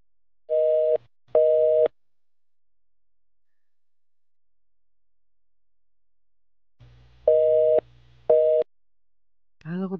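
Phone busy signal tone, heard as short repeated beeps in pairs, then silence, then another pair of beeps, with a brief voice at the very end.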